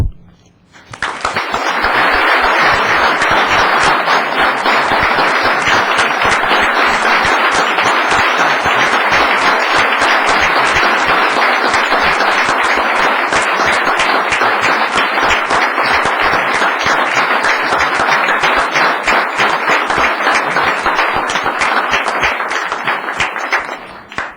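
Sustained, dense applause from the audience at a town council meeting after a speech, loud and close, rising quickly and holding steady for over twenty seconds before tapering off, with no talk over it.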